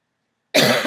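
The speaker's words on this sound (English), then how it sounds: "I have a wicked bad cough" A single harsh cough from someone with a bad cough bursts out after half a second of silence, close and loud, rough and throaty through to the end.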